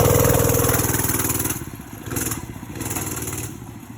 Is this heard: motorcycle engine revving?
yes